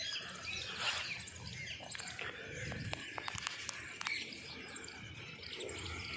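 Parrots and sparrows perched on a wire on a farm in the morning, giving off scattered chirps and tweets in a steady outdoor chorus, with faint insect buzzing beneath and no talking.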